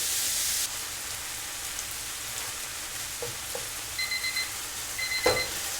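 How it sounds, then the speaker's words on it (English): A kitchen cooking timer beeps in two short electronic bursts over the constant sizzle of onions, ginger, garlic and meat browning in a hot pan, with a few soft stirring clinks. "there goes our 4-minute timer"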